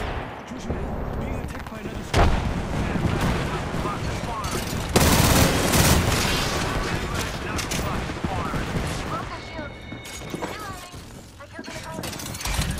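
A video game firefight with a grenade going off, heard as dense, loud gunfire and blasts with a heavy burst around the middle and rattling debris, continuous throughout.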